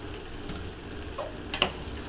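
Potatoes fry in a pan with onions and spices, a soft steady sizzle with a few small stirring clinks near the end.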